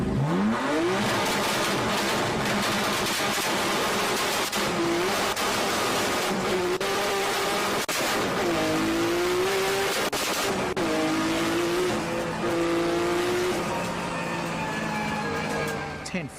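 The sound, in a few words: race car driving around track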